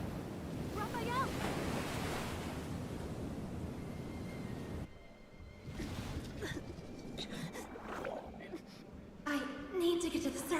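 Ocean surf and rushing wind in a video game, broad and continuous for the first half, then dropping to quieter underwater-like ambience with scattered splashes and bursts, with talk heard over it.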